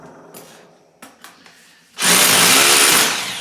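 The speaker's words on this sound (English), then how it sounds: "So you can see I've drilled a series of holes here" A power drill boring into a concrete floor in a cellar, heard up close: a few faint knocks and taps, then a loud, steady drilling roar that holds for over a second before easing off slightly.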